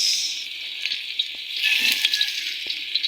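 Garlic and onion sizzle steadily in a hot pan, a bright continuous frying hiss broken by a few soft clinks and stirring knocks, close and alone without any talk.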